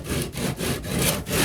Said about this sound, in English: I'm sanding down